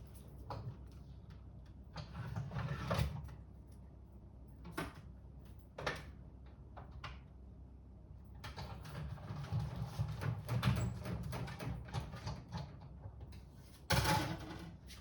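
A die-cutting machine cuts a stitched circle from card with a stylish shapes die, giving several loud mechanical clunks and rolling grinding passes, close by with no talk.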